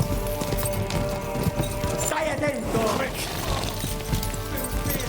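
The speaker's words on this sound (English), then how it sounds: "I think I got the fastest horse in the game." A horse gallops in Kingdom Come: Deliverance 2, its hooves pounding in a quick, steady clip-clop with clattering effects and music, while voices talk over the action.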